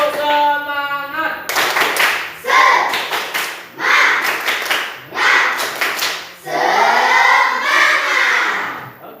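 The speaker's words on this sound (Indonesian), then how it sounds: "Tepuk semangat." A fifth-grade Indonesian primary school class performs a rhythmic spirit clap, several loud bursts of group hand-clapping in a patterned beat, with chanting voices mixed in after a teacher's brief call.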